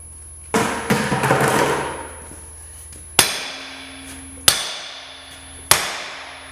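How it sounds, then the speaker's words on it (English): Three loud, spaced blows from a big hammer ring sharply on a bucket hydraulic cylinder, each leaving a lingering tone, after a brief stretch of scraping clatter. "maybe the big hammer will work on it now."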